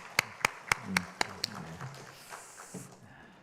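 A church congregation claps during a Sunday 11 a.m. worship service: six sharp, evenly spaced claps in a steady rhythm over about a second and a half, followed by quieter room murmur.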